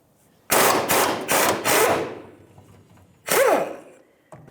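A 1/2 inch impact gun with a 19mm socket hammers off a rear shock bolt on a 1992-1996 Ford F-150 in three loud rattling bursts, then one more short burst after a pause, with nothing in between.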